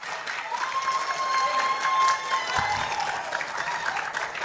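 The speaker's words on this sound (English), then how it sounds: "A round of applause for him." Audience applause at a live environment day debate and symposium, welcoming a poetry recital: dense, steady clapping from a crowd, moderately loud and sustained throughout.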